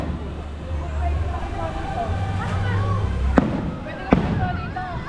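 Fireworks burst outdoors over crowd chatter and traffic hum, with two sharp reports standing out near the end among softer crackling.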